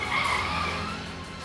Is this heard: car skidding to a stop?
yes